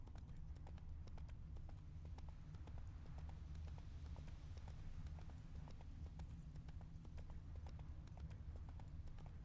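Horse hooves gallop in Witcher 3: Wild Hunt, a fast steady clip-clop running continuously over a low rumbling game soundscape, fairly quiet and distant in the mix, with no speech heard.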